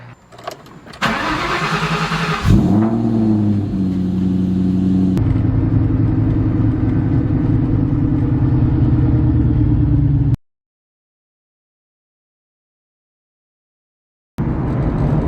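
A Ford Mustang V8 cranks and fires up, then settles into a loud, steady idle rumble close by. It cuts out abruptly into silence, and the engine sound returns near the end.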